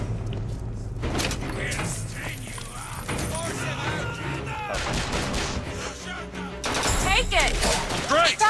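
Gunfire in the BioShock Infinite video game crackles in bursts amid clanking mechanical effects and other game sounds, fairly loud and dense, with a voice talking over parts of it.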